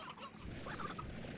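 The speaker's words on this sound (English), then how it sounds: "let me go put these chickens over here" Hens in the game Slime Rancher cluck softly and continuously, faint and low in level, with no talk over them.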